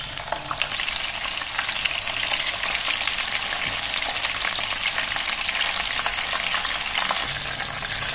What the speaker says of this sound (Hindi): ऑयल डालेंगे और इसमें फ़िश को फ्राई कर लेंगे।